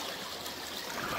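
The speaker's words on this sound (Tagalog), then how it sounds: "Pero kailangan ko muna tumawid dito sa sa mga tubig-tubig." Shallow stream water flows steadily in a rural creek, a soft continuous trickling rush heard faintly and alone.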